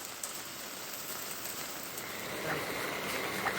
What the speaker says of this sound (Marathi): रायगड जिल्ह्यामध्ये पावसाचा जोर कमी झाला असला तरी संततधार मात्र सुरूच आहे